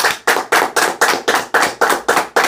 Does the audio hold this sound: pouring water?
no